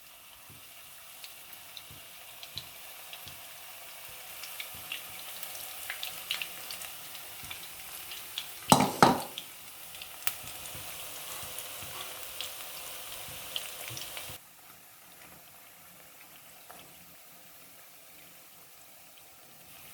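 Spinach and gram flour pakoras frying in hot oil, a steady low crackling and bubbling sizzle running throughout with one brief louder clatter in the middle, then dropping quieter near the end.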